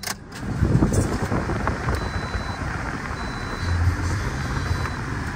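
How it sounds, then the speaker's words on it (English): A 2011 Toyota Corolla engine cranks and catches, then settles into a steady low idle, heard close from inside the car with a little wind buffeting. "Let's start the car."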